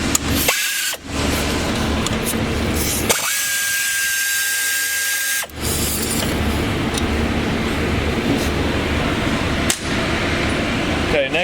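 A power tool whirs loudly while backing out an upper bracket bolt with a 1/2 inch socket during a hydraulic kit install, running in several bursts with brief pauses and a steady whine between.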